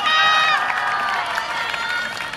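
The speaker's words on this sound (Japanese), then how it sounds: "会場の皆様、飛燕の皆さんに大きな拍手をお願いいたします" Audience at a yosakoi dance festival cheering and clapping for a university dance team, a loud, dense crowd roar with high shouts and whistles that sweeps down midway and holds steady for a few seconds.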